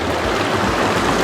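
Water from a spring on the Eagle Rock Loop Trail in the Ouachita Mountains, a steady close rushing flow that holds an even, broadband wash from start to finish, with no voices.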